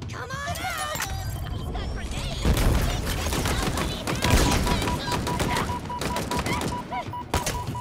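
Commando rifle fire in Halo Infinite: rapid, sustained bursts of automatic shots crackling in quick succession, mixed with impacts, booms and other game effects, loud and dense throughout.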